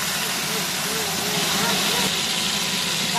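Salted fish frying in hot oil produces a loud, constant hiss and crackle that fills the whole stretch, while a person talks over it.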